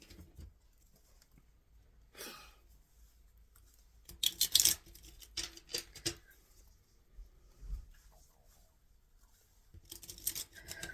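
Tarot cards are shuffled by hand in a quiet room, soft papery riffles and taps in scattered bursts, close and faint, with long near-silent gaps between them.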